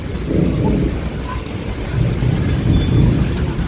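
Unseasonal summer rain pours steadily in a village setting near a temple, with low thunder rumbling beneath the constant broadband patter, fairly close and loud throughout with no voices.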